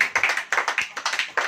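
A church audience claps along during a Hindi sermon, with steady rhythmic handclaps at a brisk pace, loud and close, several strong bursts across the moment with no talking.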